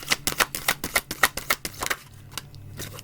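A tarot deck being shuffled and a card drawn: a quick run of about ten crisp card flicks and riffles, close and sharp, then a softer brief rustle as the card is pulled.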